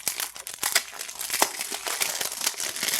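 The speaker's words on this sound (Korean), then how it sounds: "그냥 칼로 쭉근 다음에 비닐을 제거하시면 아주 깔끔하게 제거될 수 있습니다" Plastic shrink wrap crinkles and tears in rapid, close bursts as it is pulled off a Nintendo Switch Animal Crossing game box.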